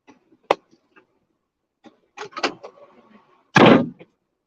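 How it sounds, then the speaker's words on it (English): A vehicle door shuts with a solid thump near the end, preceded by scattered clicks, rustling and brief movement noises in an otherwise quiet interior. "Get the door closed."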